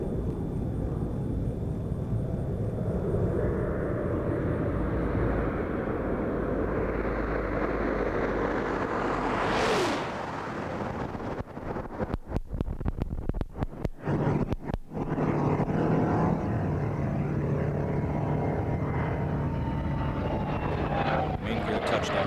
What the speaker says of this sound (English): Discovery rolling out on runway 33 at the Kennedy Space Center